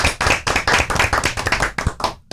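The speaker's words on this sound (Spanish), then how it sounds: "Los recibimos con un fuerte aplauso." Loud, close audience applause after a guest is introduced at a panel discussion on earthquake risk in the Dominican Republic, dense rapid clapping that thins out toward the end.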